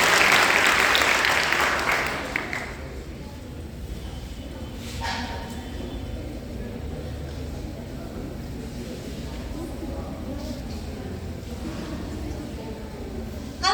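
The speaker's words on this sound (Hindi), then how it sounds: "एक बार जोरदार तालियां दक्षिता के लिए।" A school audience gives loud applause for a class 10 student speaker at a morning assembly. The clapping is strongest at the start, then fades into a lower murmur of crowd noise.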